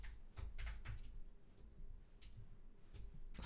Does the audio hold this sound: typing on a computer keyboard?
yes